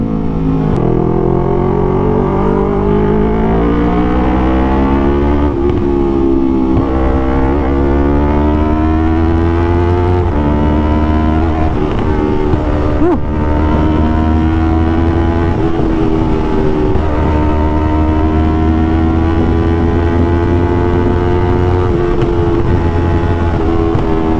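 A Yamaha R3 twin-cylinder sport motorcycle engine held at high RPM on a road test after an ECU remap, a loud, smooth, continuous whine that rises and dips slightly without a break, with no talking.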